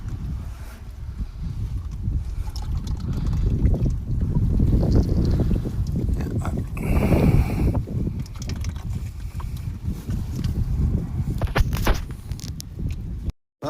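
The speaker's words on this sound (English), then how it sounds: "Well, I don't control the wind." Wind buffets a microphone outdoors in the countryside during an oil change, producing a loud, continuous rumbling roar with gusty swells, steady throughout, with no clear voices.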